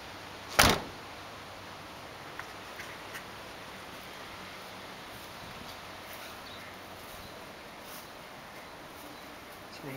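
Driver's side door of a 1958 VW being shut, a single sharp clunk near the start, then quiet background hiss with a faint tick afterward.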